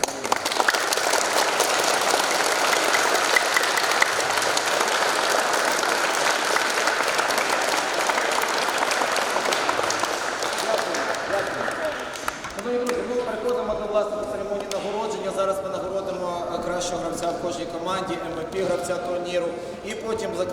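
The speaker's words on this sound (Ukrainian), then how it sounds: "я закликаю вас шанувати пам'ять гучними оплесками всіх тих людей, яких нема" A seated audience at a youth futsal tournament awards ceremony gives sustained applause in memory of the fallen, steady dense clapping that thins into scattered claps as a voice speaks over it.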